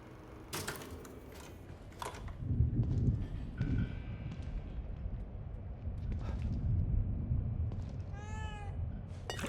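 A cat in The Evil Within 2 gives a brief meow near the end, over a busy, noisy game scene full of clatter, rumble and scattered knocks.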